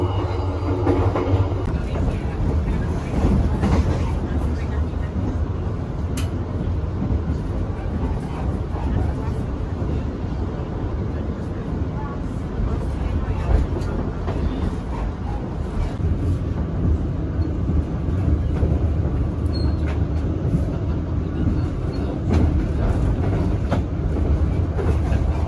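Menoreh economy class passenger train running on rails from Pasar Senen toward Semarang, a loud continuous rumble and rattle heard from inside the carriage, steady throughout.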